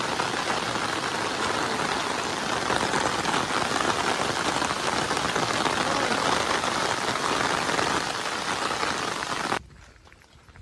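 Monsoon rain falls on a Konkan trek in Sindhudurg, a steady close hiss of drops pattering on the ground for about nine seconds before it drops away to near quiet.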